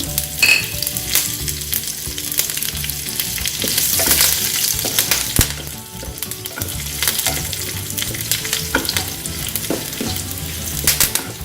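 Dried red chilies, curry leaves and garlic frying in hot oil for a dhaba-style methi dal, a loud steady sizzle with crackles and occasional stirring clinks up close.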